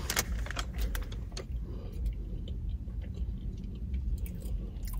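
Close, crunchy chewing of a bite of a pineapple summer item from Starbucks, with irregular moist clicks and crunches over a low background hum, no talk.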